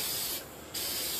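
Aerosol spray paint from a can: a loud continuous hiss that cuts out briefly and then starts again, close to the microphone, with no talk.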